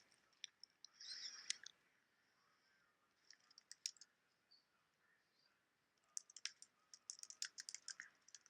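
Quick, light keystrokes on a computer keyboard, faint and close, coming in uneven bursts with short pauses between runs of clicks.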